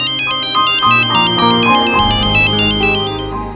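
Mobile phone ringtone for an incoming call from a mother: a loud, bright electronic melody of rapid repeating tones over a synth bass line, playing continuously with no voices.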